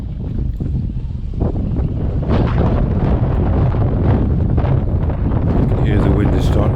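Strong wind at Old Harry Rocks on the coast, roaring steadily and loudly across the microphone with gusty buffeting throughout, sounding close and full.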